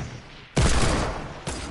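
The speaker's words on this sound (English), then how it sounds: "I know I heard shooting. No, it's a shotgun." Shotgun fire in a first-person shooter video game: a loud blast followed by a sustained roar, then a second blast about a second later, close and harsh.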